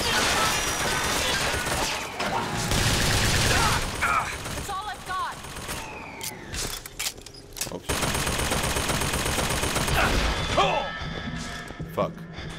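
Tommy gun fire in the video game BioShock Infinite: Burial at Sea, with loud bursts of gunfire, crashes and impacts throughout, mixed with game noise and a voice talking over it.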